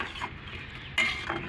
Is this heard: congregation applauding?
no